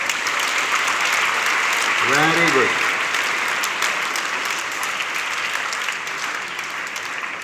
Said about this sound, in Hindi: गांधी जी के लिए जोरदार तालियां एक बार हो जाए ना।